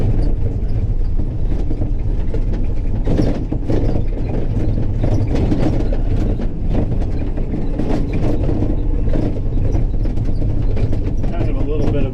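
A New Holland H9880 hay stacker runs across a bumpy field, a loud, steady engine drone with continuous rattling and clattering over the top throughout.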